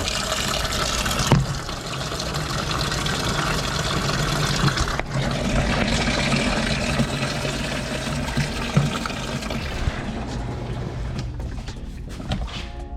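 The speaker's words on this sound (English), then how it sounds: "I come right here, turn the water on. Just gonna fill it up." Steady rushing gush of water from a hose filling a portable washer tub holding polishing pads and towels, continuous and close throughout with a few small knocks.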